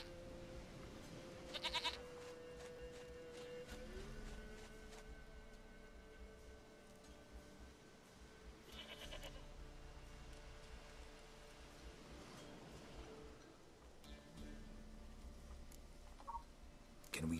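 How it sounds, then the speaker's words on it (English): Goat bleating in the video game The Witcher 3: Wild Hunt, a few brief faint bleats spread over a steady low game ambience with music, no talk. "Goat of mine, dearest, sweetest goat."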